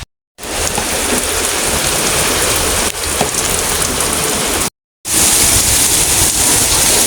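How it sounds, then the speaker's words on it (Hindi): Heavy downpour drumming steadily and loudly on surfaces, a dense continuous hiss broken by two short silent gaps, with no voices. "जल थल वाली बारिश है फुल।"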